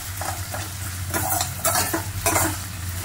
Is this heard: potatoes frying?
yes